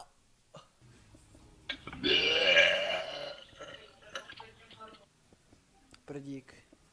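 A long, loud, drawn-out burp rumbles from a person up close for about a second, surrounded by casual talking and laughter before and after.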